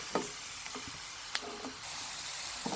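Ridge gourd masala sizzling in a pan while a spoon stirs it, a steady close frying hiss broken by a few light scrapes and taps.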